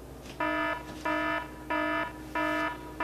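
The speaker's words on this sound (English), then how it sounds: "Those are the spoiler alert alarm system." Spoiler alert alarm effect: four evenly spaced, loud electronic buzzer blasts with a rich harmonic tone, each lasting about a third of a second, repeating steadily and heard alone.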